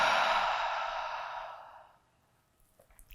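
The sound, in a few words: breathing out through the mouth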